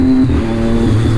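Triumph Daytona 675R motorcycle engine and aftermarket exhaust heard up close, a loud steady low drone with a slight pitch rise, brief and uninterrupted.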